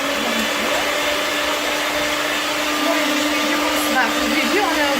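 An electric hand mixer whirs steadily as it whips eggs with sugar and a pinch of salt for a cake batter, a loud, even motor drone with faint beater scraping and no pauses.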